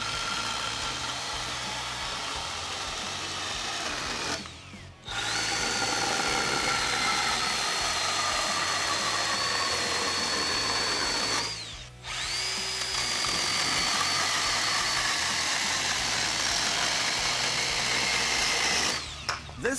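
Milwaukee M12 Hatchet brushless mini chainsaw cutting through 2x4 lumber, a loud, steady high-pitched motor whine with brief pauses between cuts, heard up close with no talking.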